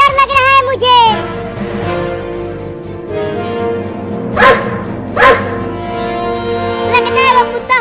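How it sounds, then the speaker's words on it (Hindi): Big dog barking in a cartoon, several loud bark bursts standing out over a busy background music bed. "एक बड़ा कुत्ता मुझे खाने के लिए आ रहा है"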